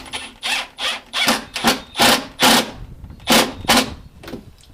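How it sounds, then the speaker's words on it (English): A screw being driven in produces about nine short, loud mechanical whirring bursts in an uneven rhythm, close by with brief pauses between them. "Now I'll drive that screw in."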